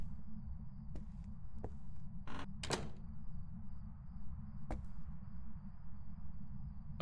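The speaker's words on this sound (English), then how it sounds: "Okay, I heard a door." A door opening or closing inside the ghost-hunting game Phasmophobia, heard as a couple of short creaky bursts over a constant low hum, with a few faint clicks spread across the rest.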